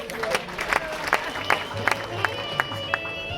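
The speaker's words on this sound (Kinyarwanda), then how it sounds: "Mubaha amashyi bariya basore." Audience applause at an engagement ceremony: steady crowd clapping with repeated sharper claps standing out, moderately loud and close, with voices murmuring underneath.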